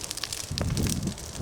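An outdoor fire burning wet debris crackles and roars softly as wind gusts buffet the scene, a low rumbling whoosh rising midway with faint crackling pops.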